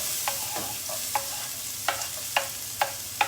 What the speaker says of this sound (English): just hot enough so that our onion can make a sizzling sound.